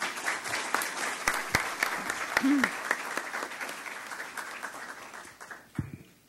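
Audience applause fills a university hall at a literary event in Lima, steady dense clapping that swells and then tapers off near the end, with a brief voice briefly over it.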